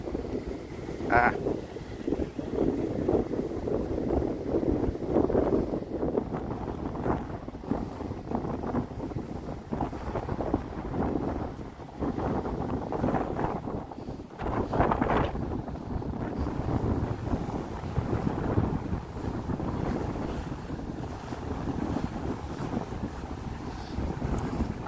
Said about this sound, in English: So that looks like maybe a fishing boat going out.